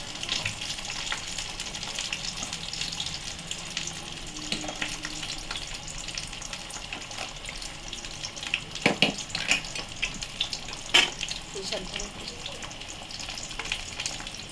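A pot of bata fish curry bubbles and hisses steadily up close for a long stretch, with a few louder pops and spatters near the end.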